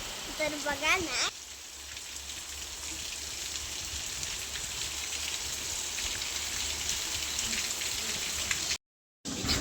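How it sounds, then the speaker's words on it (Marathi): Steady broadband patter of rain falling continuously, with a brief voice at the start and a short dropout near the end. "आता चांगला पाऊस यायला लागलाय दुपारी पाऊस लागलाय"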